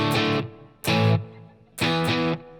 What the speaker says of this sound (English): you can always just play a power chord version of them, which will sound good too